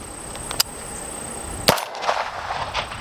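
A PSA Jakl .300 Blackout rifle with a suppressor fires two sharp reports spaced about a second apart, the second louder and followed by a rolling outdoor echo, with no speech.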